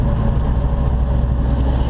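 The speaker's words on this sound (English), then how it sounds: "Look at this sucker go here. Woo! That's a snowblower right there." A snowblower vehicle passing on a Northern Ontario highway between Wawa and Sault Ste. Marie, heard as a loud, steady low engine roar and rumble throughout.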